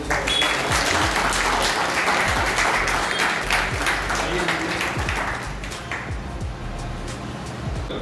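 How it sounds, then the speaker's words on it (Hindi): A yoga class claps together for a few seconds, fairly loud and steady, then fades to a murmur of background noise. "एक बार ताली बजा के"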